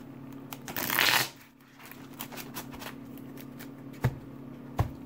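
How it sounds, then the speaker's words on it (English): A deck of Pokemon cards being riffle-shuffled close up, with a loud burst of flicking cards followed by quieter handling, a few soft taps and thuds as the deck is squared. "And really try to get it shuffled up."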